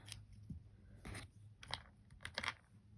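A few quiet, crisp snips of scissors cutting a sewing thread end, spaced irregularly, close by in an otherwise hushed room.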